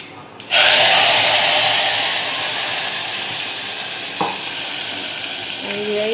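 Loud, steady sizzle as gravy hits a hot asafoetida tempering in a pan, starting abruptly and settling into a continuous hiss, with a brief clink near the end.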